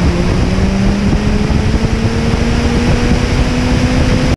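A LeMond Revolution direct-drive bike trainer runs loud and steady, a dense roaring whoosh with a faint rising whine, constant throughout with no talking.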